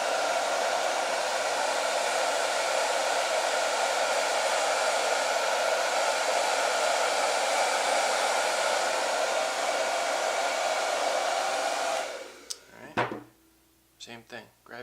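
A blow dryer heats a dbrand skin, a loud steady roar of rushing air lasting most of the time before it cuts off and a few clunks and handling noises follow.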